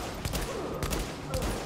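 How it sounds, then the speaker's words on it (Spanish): Gunfire from The Division video game: three quick bursts of shots spaced about half a second apart, fairly quiet beneath a dense backdrop of game noise. "Vamos a disparar por aquí."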